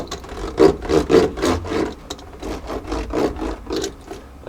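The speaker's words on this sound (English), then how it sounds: "I'm just going to take this roller, start pressing it in, and just keep working my way forward" A hand roller is pushed back and forth over a sound deadener mat on a Jeep Cherokee XJ floor pan, giving a rhythmic series of close, rasping rubbing strokes, about a dozen in quick succession.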